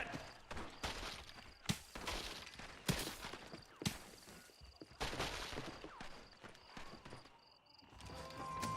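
Gunfire in Red Dead Redemption: irregular sharp shots and cracks at varying distances over a rumbling background, mixed with horse hooves and clattering movement.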